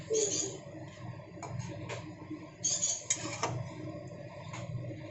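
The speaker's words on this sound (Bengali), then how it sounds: "বারে বারে নাড়াচাড়া করে আমি কষিয়ে নেবো এটাকে।" Katla fish curry being stirred and cooked down in a pan: a ladle scrapes and clinks against the metal in irregular bursts, close and moderately loud, over a low steady hiss.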